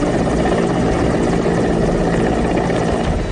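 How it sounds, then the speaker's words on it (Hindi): Indian Air Force Mi-17 helicopter flying through heavy rain during floods, a loud, steady rotor and engine drone filling the whole stretch without a break. "भारी बारिश के बीच इंडियन एयरफोर्स का हेलीकॉप्टर MI-17 देवदूत बनकर प्रकट हुआ।"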